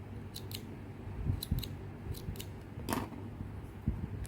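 Several light, quick scissor snips through crochet yarn while a small avocado piece is being finished, scattered close clicks over a low steady background hum.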